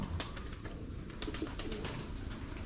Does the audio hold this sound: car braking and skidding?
no